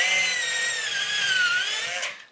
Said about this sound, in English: Let's have a quick go using the drill bit in the driver.